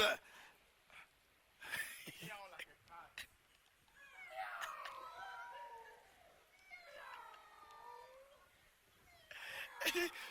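A person gives drawn-out, wavering meows in imitation of a cat, mixed with a few quiet spoken words and soft breathy sounds, close to the listener.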